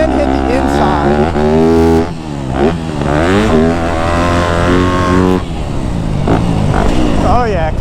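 A Yamaha YZ250F dirt bike engine revs hard and shifts pitch up and down through gears while riding, loud and close throughout, with a rider's voice talking over it.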